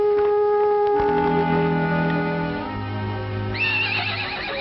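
A horse neighs in a long, drawn-out whinny that climbs sharply in pitch near the end, loud and fairly close.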